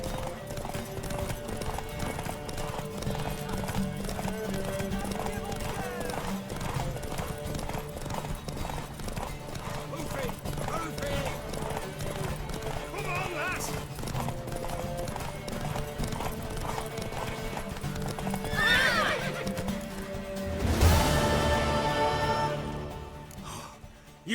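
Horses in The Witcher 3: Wild Hunt gallop with a steady, loud clip-clop of hooves that runs almost the whole time, broken near the end by a sharp whinny and snorting.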